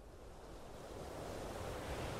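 Ocean waves wash softly in a meditation soundscape, a faint continuous hiss that swells slightly toward the end, with no talk.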